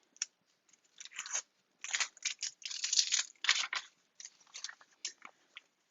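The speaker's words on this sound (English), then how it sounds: "We'll get our tape off of there." Tape being peeled off a sublimated cone-style face mask, a series of close, crackly ripping and crinkling bursts in quick irregular pulls, with short pauses between them and no talking.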